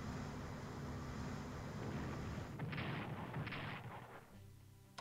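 Artillery bombardment in Strategic Command: World at War, a steady rumbling barrage of distant booms with a few sharper blasts, ending in a low mechanical drone.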